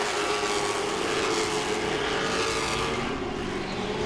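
Late model race cars circle Langley Speedway in tight pack racing, engines droning steadily and loudly throughout with a dense, continuous roar and no distinct pass-by peaks.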